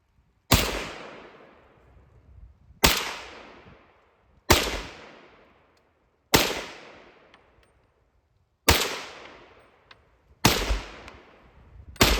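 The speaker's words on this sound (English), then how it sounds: "we're out here today with the M1 Carbine, and we're going to shoot it" Six sharp, loud M1 Carbine rifle shots fired outdoors at a slow, uneven pace, each crack followed by a ringing decay into quiet.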